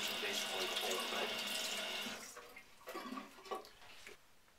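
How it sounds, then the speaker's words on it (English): Tap water runs into a kitchen sink while a pear is washed, a loud steady splash for about two seconds, then quieter intermittent rinsing sounds as the flow is interrupted. "one of the first things I do is obviously wash the pear"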